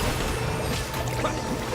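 A water jet attack in Genshin Impact bursts out as a dense, continuous splashing gush, loud and close, holding steady for under two seconds with no talk over it.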